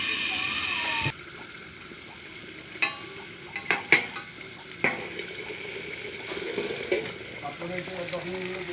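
Food frying in a pan, a steady close sizzle with repeated stirring clatters and scrapes, with a sharper burst near the start.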